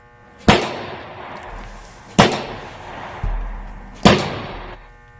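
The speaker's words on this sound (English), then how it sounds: "Listen to him throw hooks on the wall bag like a sniper." Three hard, sharp punches land on a wall-mounted punching bag at even intervals, each a loud crack with a short decaying thump.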